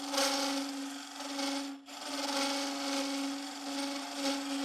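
A wood lathe spinning a workpiece with a steady tonal hum while a cutting tool rasps continuously against the wood. The cut is loud and close, with one brief dip where the tool lifts off.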